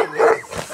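A single loud, close dog bark, short and sharp, alone without speech.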